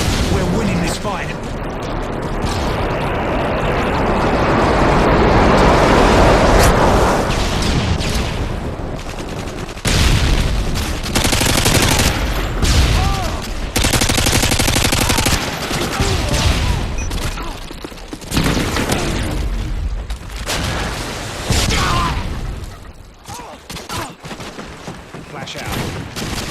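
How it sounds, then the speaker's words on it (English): An airstrike hits in a video game battle, with loud rolling explosions and bursts of rapid gunfire that keep going throughout as a voice talks over the chaos. "Friendly airstrike inbound."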